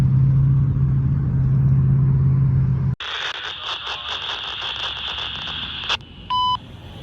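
A CSX railway equipment defect detector's radio tone comes from a scanner trackside: a low engine rumble, then steady high whining tones, and near the end a short, clean electronic beep stands out.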